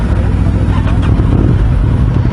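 Aprilia RS660 middleweight sportsbike with an Akrapovic slip-on exhaust, loud and close, its engine running with a steady, heavy low rumble and no pause.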